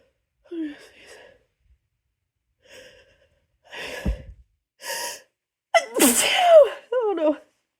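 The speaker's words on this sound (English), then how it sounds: "I'm gonna sneeze." A person sneezes loudly and close up after a drawn-out, gasping build-up of sharp breaths and tickle-driven vocal noises, with a second burst of sneeze sounds at the end; breathy voice sounds fill the gaps.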